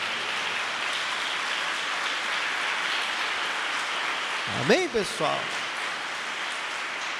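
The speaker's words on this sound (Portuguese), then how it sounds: "Dê uma salva de palmas para Jesus" A church congregation gives a sustained, even round of applause for Jesus, a fairly distant wash of clapping that continues while a preacher speaks briefly over it.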